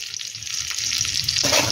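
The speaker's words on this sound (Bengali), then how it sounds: "প্রথমেই একটু পটলটাকে বেশ ভালো করে ভেজে নিতে হবে" Pointed gourd (potol) frying in hot oil with turmeric, a steady bright sizzle that grows slightly louder, with a soft stir or shift of pieces near the end.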